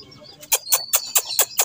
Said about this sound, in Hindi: ये देख लें मुर्गियाँ हमारी